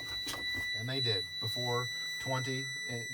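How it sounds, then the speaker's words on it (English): A truck's low air pressure warning buzzer drones steadily and high in the background during a pre-trip brake check while someone talks over it. "my audible and visual alarm came on"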